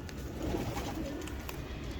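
Spotted Sialkoti pigeons coo softly nearby, low murmuring calls repeating over a faint background hum, with no talking.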